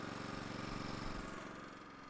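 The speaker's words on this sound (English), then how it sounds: "So now we're recirculating solvent from the bottom of the tank back up into the top of the tank" Engine of a 2002 Leeboy L150 tack distributor running while solvent recirculates through its tank, a steady close mechanical drone with faint rhythmic pulsing.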